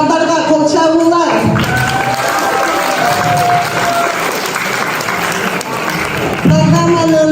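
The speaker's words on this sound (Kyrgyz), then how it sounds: "Ушу организатор балдарга кол чабуулар." An audience at a Kyrgyz–Kazakh community event in Bologna bursts into loud, sustained applause for the organizers. The applause starts after a speaker's voice and continues for several seconds, with talk resuming near the end.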